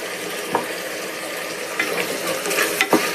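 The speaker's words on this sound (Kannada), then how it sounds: "ಸ್ವಲ್ಪ ಹಸಿ ಸ್ಮೆಲ್ ಹೋಗೋವರೆಗೂ ಇದನ್ನು ಫ್ರೈ ಮಾಡ್ಕೊಳ್ಳೋಣ" A ground coriander, mint and green chili masala fries in a pan with a steady, close sizzle, broken by a few spoon scrapes and clinks as it is stirred, with no speech.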